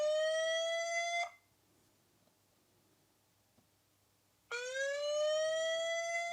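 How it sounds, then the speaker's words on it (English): An electronic siren from a Conico wireless IP security camera wails loudly in two bursts, each sweeping upward in pitch, separated by a few seconds of near silence. "That's a siren."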